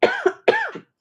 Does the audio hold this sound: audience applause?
no